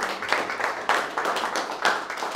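Modest, uneven clapping from a small audience in a Berlin art gallery, welcoming an abstract painter; a few rhythmic bursts of hands stand out, fairly quiet and close.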